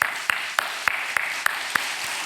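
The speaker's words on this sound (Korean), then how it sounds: "우리 박수 한번 칠까요?" A church congregation claps for its teachers during a Sunday afternoon family seminar, heard as a short series of evenly spaced single claps over a steady background hiss.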